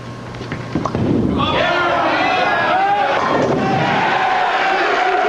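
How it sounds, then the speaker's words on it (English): A crowd at a televised 1990 professional bowling tournament erupts into loud cheering and whistling after a brief thump, the roar staying strong and sustained with mixed voices rising through it. "Listen to that crowd."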